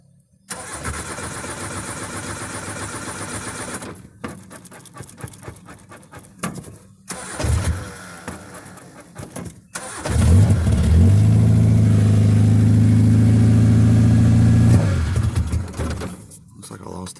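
A car engine cranks in a few short bursts, catches and then revs to a loud, steady roar before easing off, close up, with a voice in between and a dog audible.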